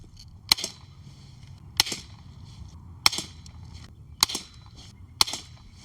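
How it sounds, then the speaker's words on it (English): Daisy Powerline 880 .177 air rifle firing Olympia domed pellets, five sharp cracking shots at roughly one-second intervals, close and crisp, each followed by a short rattle and otherwise near-silent gaps. "Now I'm going to try shooting these Olympia domed, a couple of these, and see what kind of groups we get."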